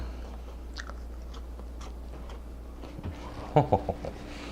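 A few crisp bites and chews into homemade French fries, faint and close, in a short cluster near the end over a quiet room hum.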